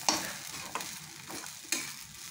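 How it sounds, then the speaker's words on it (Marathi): Sabudana khichdi being sautéed in a pan, with soft stirring scrapes and a light sizzle, three sharper scraping strokes standing out over a continuous low frying hiss, no talking. "आपण ही चांगली 10 मिनटं खिचडी परतून घ्यायची आणि चांगला कलर बदलेपर्यंत परतून घ्यायची खिचडी"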